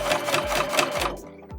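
A sewing machine stitches a small fabric mini tote bag with a steady, close, busy whir of needle strokes. The motor pitch dips and rises briefly a few times as it slows and restarts, and no one talks.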